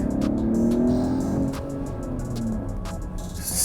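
A 2022 Mercedes-Benz GLE 450 Coupe on the move, heard from inside the cabin as a steady low engine and road hum, swelling slightly at first, with no voices.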